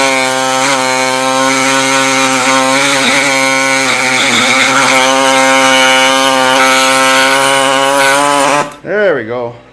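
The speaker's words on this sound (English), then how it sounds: "Just using the air saw to cut it out" A pneumatic air saw cuts a metal quarter window bracket for a 1965 Thunderbird convertible restoration, a loud harmonic whine with rhythmic stroking that stops abruptly near the end, followed by a brief spoken remark.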